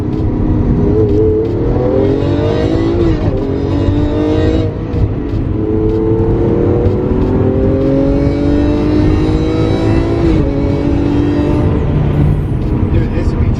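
Lamborghini Aventador revving and pulling hard under a fast clutch drop, its engine note rising in repeated sweeps loud and close, with people talking inside the car over it.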